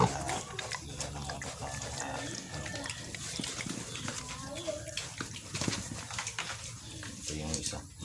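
Piglets on a pig farm on their first day of weaning, about 28 days old, grunting and squealing in a busy, shuffling mix with water or liquid sounds, while someone talks over them.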